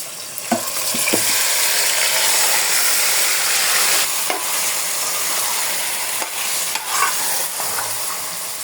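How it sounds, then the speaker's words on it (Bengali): Beef pieces for a potato-and-beef curry fry and sizzle loudly in hot oil with onions and spices, with a continuous hiss broken by repeated scraping stirs of a spoon against the pan, close and without speech. "মাংসগুলো দিয়ে দিলাম"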